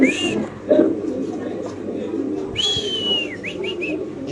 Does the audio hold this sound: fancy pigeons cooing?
yes